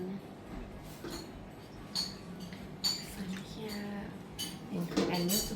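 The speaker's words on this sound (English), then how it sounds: "And mix together making sauce." A utensil mixes a coconut cream sauce in a Thai cooking class, giving soft, scattered clinks and scrapes against a bowl over a quiet kitchen background that grows busier toward the end.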